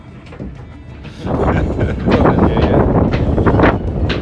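Strong wind buffets the microphone at a crowded marina in a steady, roaring rush that swells louder after the first second and keeps blowing throughout.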